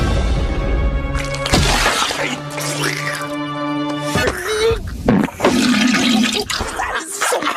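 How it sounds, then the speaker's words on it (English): Pumpkins are smashed one after another in a pumpkin patch, loud crunching, shattering hits layered over music, with a voice talking and exclaiming in between. "he goes to a pumpkin patch and smashes every pumpkin there"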